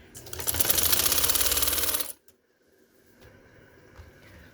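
Sewing machine stitching trouser fabric, a fast steady mechanical whir for about two seconds that stops abruptly, followed by faint handling noises.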